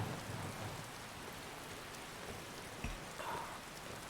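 Steady rain ambience in Skyrim, a dense even hiss of falling rain throughout, with a faint low thunder rumble near the start and a soft thump just before three seconds.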